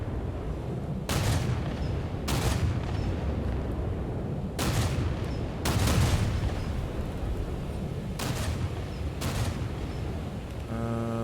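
Heavy naval guns of the cruiser Prinz Eugen firing in War Thunder, six deep booming salvos spaced a second or two apart, each with a rumbling tail over a low background hum.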